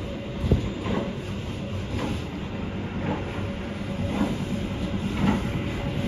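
Inside the KA Taksaka passenger train running from Yogyakarta, a steady rumble of the rails fills the car, with periodic clickety-clack beats as the wheels cross rail joints at a moderate, even pace.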